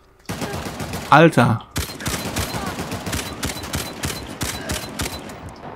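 Rapid bursts of gunfire crackle through a firefight in Uncharted: The Lost Legacy, a dense ongoing volley of shots that continues throughout, with someone briefly speaking over the start.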